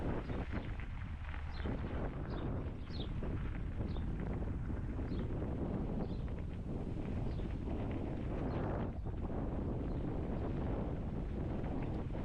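Steady cold wind buffets the microphone throughout on a hillside near a gondola station, a continuous broadband rush with faint high chirps of birds far off.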